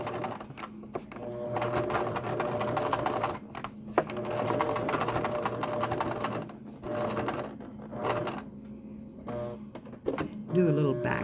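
Sewing machine stitching embroidery with a short back stitch, a steady close mechanical whir and needle chatter that pauses and restarts, with a voice talking over it.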